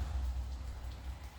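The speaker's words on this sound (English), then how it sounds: "Wish all this rain that's falling could be falling on all those wildflowers." Steady rain falls outdoors on a day of smoky air, a continuous soft hiss with a heavy low rumble, close and unbroken, with no talking.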